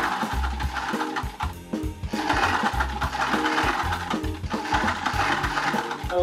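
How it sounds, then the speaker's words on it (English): A sewing machine in a dressmaker's workshop stitches cut fabric into small flags, running in close, steady rhythmic bursts with brief pauses between runs. "She'll be sewing all the cut fabric to produce the banderitas."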